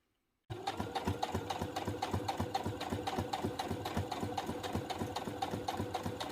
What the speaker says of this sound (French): je pense que c'est mieux de bien les coudre, bien les bloquer pour pas qu'ils s'ouvrent